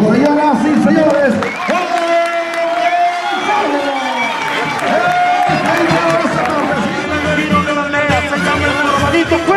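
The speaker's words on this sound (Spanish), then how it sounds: "Venga el aplauso, señoras y señores." A rodeo arena crowd at a riding competition in Colusa cheers and claps steadily and loudly throughout, with an announcer's voice and music mixed in over the roar.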